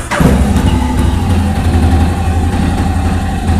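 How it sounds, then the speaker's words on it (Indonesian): Yamaha X-ADV 750 scooter engine cranking and catching, settling at once into a loud, close, rumbling idle that holds steady to the end. "kita coba nyalakan motornya itu sendiri."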